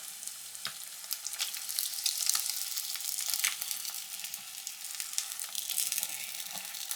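Filipino breakfast food crackling as it fries crispy in a pan, a soft steady sizzle with scattered pops and spits, fairly quiet and close, no talking.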